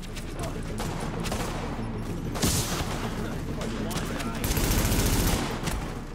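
Gunfire in the video game The Division, with dense, continuous bursts of rapid shots and booms that swell loud and stay busy throughout, while a voice talks over the combat.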